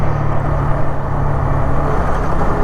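Motorcycle engine thumping steadily under part throttle, a loud continuous low rumble with a droning hum, close by and alone without talk.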